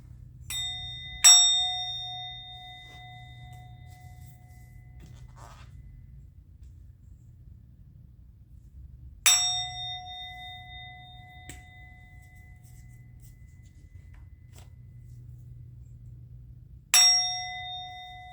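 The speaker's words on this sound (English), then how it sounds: "I'm going to ring the bell." A bell is rung three times at long, even intervals, each strike a bright metallic clang with a clear ringing tone that decays slowly over a quiet low hum.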